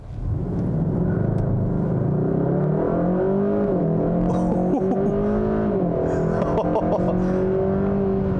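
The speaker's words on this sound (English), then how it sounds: "this 8-speed wet dual clutch, new transmission design, I'm gonna have it in sport now. I'm just gonna floor it." A 2021 Kia K5 GT with a 2.5-litre turbo engine and eight-speed wet dual-clutch gearbox in sport mode, front-wheel drive on all-season tires, pulling hard at full throttle with a loud, steady rising engine drone heard from inside the car.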